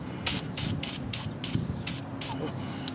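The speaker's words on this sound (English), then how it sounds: "I will just spray down this nut and threads real good," PB Blaster penetrating oil sprayed onto an axle nut and threads on a Hyundai Elantra, heard as about eight short, sharp hissing bursts in a steady rhythm, close and fairly loud over low workshop rumble.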